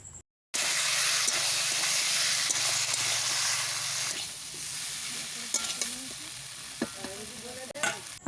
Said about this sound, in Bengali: এরপর দেব ভেজে রাখা আলু আর সজনে ডাঁটা দিয়ে ভালোভাবে মশলার সাথে কষে নেব